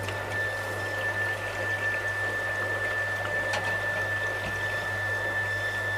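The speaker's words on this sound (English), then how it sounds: "So now I'll turn the pump on and we'll see what happens." A water pump runs in a water filtration plant, a steady continuous hum with low mains-like drone and faint watery wash, moderately loud and unbroken, with no talking.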